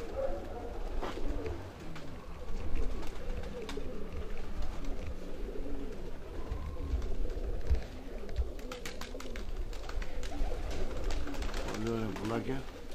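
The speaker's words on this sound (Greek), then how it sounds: "Πολύ ωραία πουλάκια." Karagalatsia pigeons coo repeatedly in a loft, soft rolling coos overlapping one another at close range, with people talking throughout and scattered rustling and wing or footstep noises.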